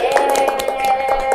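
A short burst of applause for a group after their presentation in a teaching session: a quick flurry of hand claps, moderately loud and close.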